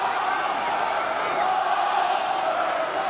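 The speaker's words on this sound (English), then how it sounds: "the home crowd in full voice for the first time this evening" Home crowd at an Ulster v Munster rugby match roaring in full voice, a dense, sustained wall of cheering and shouting that holds steady throughout.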